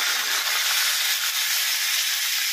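Curry leaves dropped into hot oil in a kadai give a loud, bright, continuous hissing sizzle close up, with no voices.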